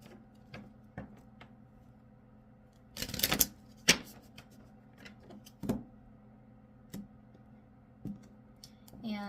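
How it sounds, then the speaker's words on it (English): A deck of oracle cards is handled and shuffled, giving scattered light taps and clicks with one louder riffling burst midway. The sounds are close and sparse, over a faint steady hum. "I'm going to go ahead and give the cards like a couple more shuffles"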